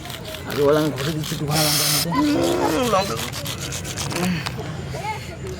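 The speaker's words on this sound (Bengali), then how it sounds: "দেখতে পাচ্ছেন আমার মামা এখানে লঙ্কাগুলো ঘষে দিচ্ছে" Chillies are rubbed and crushed by hand with oil during a village banana flower preparation, giving rough scraping rubs under people talking.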